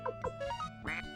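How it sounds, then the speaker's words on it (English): Quacking menu sound from Suikoden, a few short duck-like nasal honks in quick succession, clear and close with no talk over it. "Yeah, that's a quacking noise."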